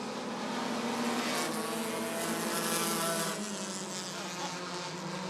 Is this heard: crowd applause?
no